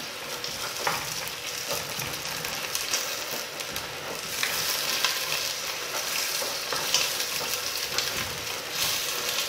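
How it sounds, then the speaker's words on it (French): Onions sautéing in a pan for a courgette and potato velouté, a steady close sizzle and crackle with faint stirring scrapes, no voices. "Je vais faire revenir un petit peu mes oignons."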